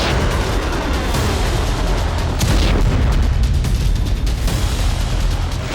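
Continuous heavy rumbling blasts and booming explosions of Hezbollah missiles striking Israel, dense and loud throughout, with a sharper burst midway.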